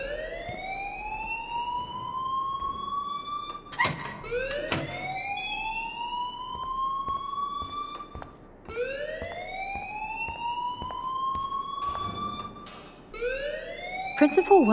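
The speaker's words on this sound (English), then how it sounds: "please turn off that alarm since that's your job" A school alarm in Life Is Strange wails in repeated rising electronic sweeps, loud and steady throughout, with a voice speaking over it.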